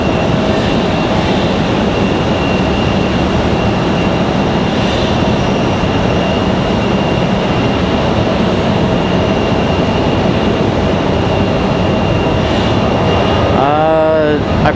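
A United Airlines airliner moving at Raleigh-Durham airport gives off a loud, steady jet engine roar with a high whine, heard close and continuous as a voice speaks.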